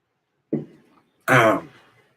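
Two throat-clearing sounds close to the mic: a short gruff one, then after a pause a longer, rougher rasp.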